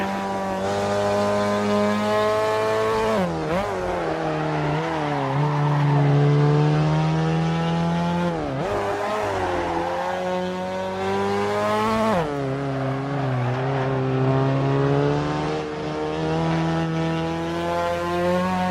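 Sustained engine note from a car in the Assetto Corsa racing game's Japanese pack, steady and loud with rising and falling revs through several gear changes, heard alone over about nineteen seconds.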